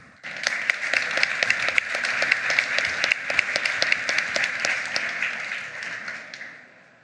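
An audience at the re:publica 2023 conference applauds to welcome a speaker, a dense, even patter of clapping that starts abruptly, holds steady for several seconds, then fades out.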